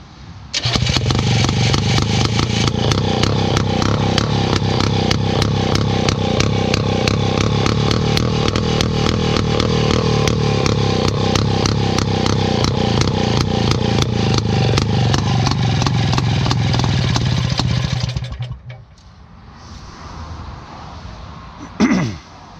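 The small donkey starting engine on a Belarus DT75 crawler fires and runs with a loud, rapid, clattering putter, then cuts out near the end, leaving a quieter rumble and a final knock.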